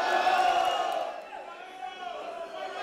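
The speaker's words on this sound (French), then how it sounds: "Est-ce qu'on peut applaudir pour Stella?" A television music-competition audience cheers and applauds, loud at first and easing off after about a second, with shouts and whoops continuing in the crowd.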